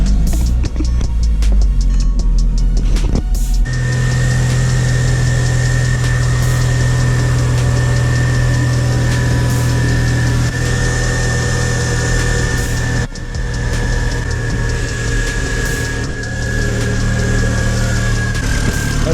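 A Mk1 Audi TT 225 engine cranks and fires after a few seconds of starter noise, then settles into a loud, steady idle with a constant low hum and faint higher whine, close up.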